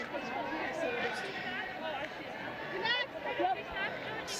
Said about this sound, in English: the crowd's starting to come in to Loftus Versfeld now